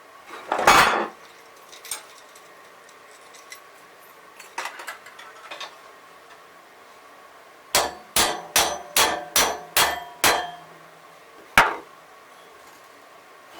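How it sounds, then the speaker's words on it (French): A hammer strikes metal on a kit car bumper in a quick run of about seven ringing blows, then one more, after a few scattered clanks and knocks. "Oui, mon marteau."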